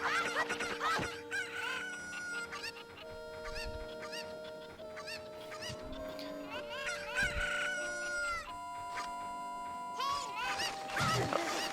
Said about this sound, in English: So I need to herd a chicken really bad.